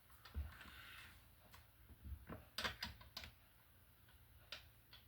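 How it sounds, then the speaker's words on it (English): Spark plug socket clicked onto a socket wrench during maintenance of a Stihl 026 chainsaw, heard as a few close, quiet metallic clicks and ratcheting taps spaced over several seconds, with no talk. "Pop spark plug sockets in here."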